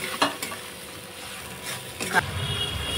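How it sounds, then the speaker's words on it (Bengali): Spice paste sautéing in oil with a splash of water for shol fish kalia, a low continuous sizzle with a few sharp scrapes and clinks of stirring that grow busier near the end. "আমি হালকা করে জল দিয়ে দিয়ে এটা ভালো করে আমি কষবো।"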